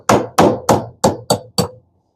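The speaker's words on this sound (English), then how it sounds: "I'm going to drive this pin out right here with the proper punch." Six sharp metallic hammer blows on a punch driving a pin out of a vintage Penn 980 surf fishing reel over a block, evenly spaced, loud and close, each ringing briefly before the next.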